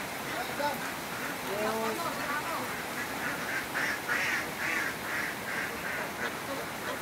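Layer ducks (itik) on a duck farm quack in short, repeated bursts while being moved into a pen, the calls rising and falling over a steady rain-like hiss of background noise.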